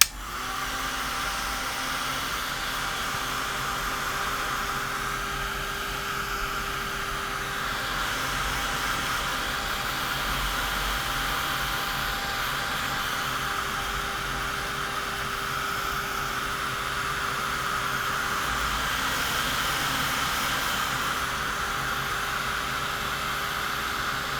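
A hair dryer blows steadily at close range over an inky painted background, a continuous loud whooshing roar with a faint motor whine, running unbroken throughout with no talking.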